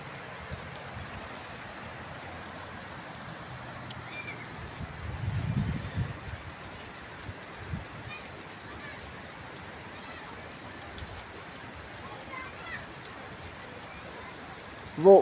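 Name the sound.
rain falling in a mountain valley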